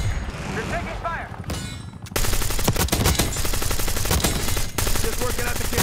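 Black Ops 6 gunfire in hardcore multiplayer: after a quieter start with faint voices, dense sustained automatic bursts erupt loud and close, rattling almost continuously with brief gaps.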